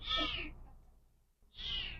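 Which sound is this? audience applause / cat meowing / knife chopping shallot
cat meowing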